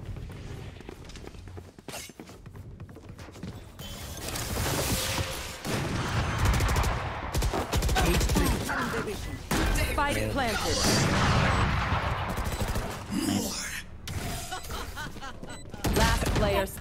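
Rapid bursts of gunfire in a battle royale video game, with loud volleys and sharp cracks coming and going over about seventeen seconds while voices talk over the action.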